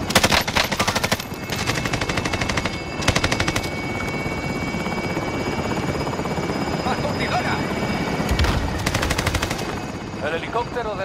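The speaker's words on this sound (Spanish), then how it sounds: "El helicóptero de depósito abandona la zona" Helicopter from a deposit leaving the zone in a Spanish-language video game shooter, a steady loud rotor drone running throughout, cut by bursts of rapid gunfire near the start and end.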